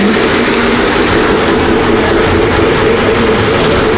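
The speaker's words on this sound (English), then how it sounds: "This one's a bigger train." A large train at a Christmas village attraction rumbles past on the track, loud and close, with a steady roar and clattering wheels throughout and no voices.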